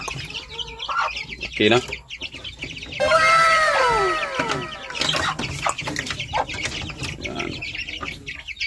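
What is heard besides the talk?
one-month-old Dumpo line gamefowl chickens clucking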